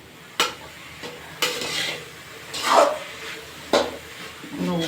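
Rajgiri greens are stir-fried in oil, with repeated sharp scrapes and knocks of a ladle against the pan over a faint sizzle, each stroke close and distinct.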